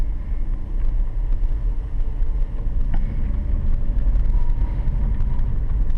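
A car pulling away during a three-point turn on a driving test, with a steady low engine rumble and road noise, close and loud, and some wind buffeting the microphone, no talking.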